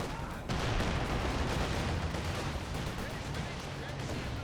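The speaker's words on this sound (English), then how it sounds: "Another landmax barrage hitting this MG34" Artillery barrage in Company of Heroes 2 striking an MG34 position, a dense, steady roar of overlapping blasts and crackling impacts, loud and unbroken throughout, with a voice faintly beneath.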